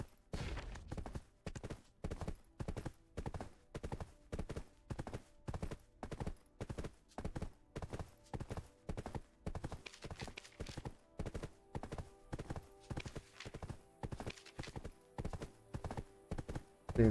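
Horse hooves in the video game Black Desert, a long, steady run of sharp, evenly spaced clip-clops up close, continuing without pause, with no talking over it.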